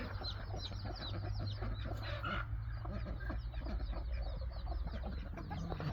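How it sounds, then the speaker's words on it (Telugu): Country chickens peck and feed on a farm, giving a busy, continuous stream of soft clucks and scratchy pecking noises close by, over steady low rumbling background noise. "చూడండి, కోళ్ళు దవ్వుకుంటూ తింటున్నాయి."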